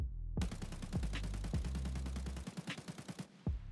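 Rapid automatic gunfire from a weapon hip-fired at a wall in Escape from Tarkov with a laser pointer switched on, a loud, close, steady burst of evenly spaced shots lasting about three seconds before it cuts off, then one last report.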